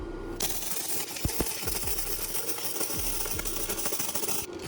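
A welder sputters and crackles steadily while filling a gap in the metal of a Grand Marquis, making a close, continuous buzzing hiss with scattered sharp pops throughout.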